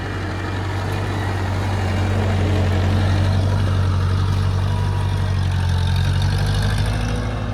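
An old Ford 9N tractor's engine runs steadily as it drives through muddy ruts, a loud, constant low rumble that holds throughout with no talking over it.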